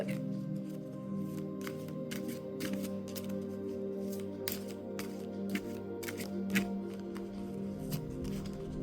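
Oracle cards being shuffled by hand, a quiet close run of soft riffling and slapping card sounds, repeated irregularly over a faint background hum.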